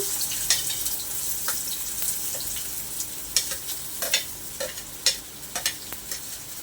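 Garlic and finely chopped onion fry in oil on an iron pan with a close, steady sizzle, broken by repeated sharp scrapes and clicks of a stirring spoon.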